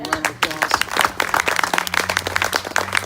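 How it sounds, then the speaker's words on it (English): A crowd applauds the mayor at a fiber network expansion event at Kings River Tech Park in Sanger. The dense, fairly loud clapping from many hands fills the whole stretch, with a voice faintly audible underneath. "Let's give him a round of applause."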